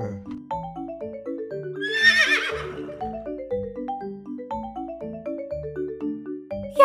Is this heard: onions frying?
no